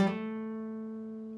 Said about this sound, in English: you will then play a vibrato there, so it'll sound like this.